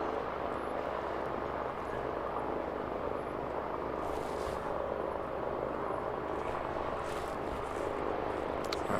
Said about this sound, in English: Pick up the ATR coming in.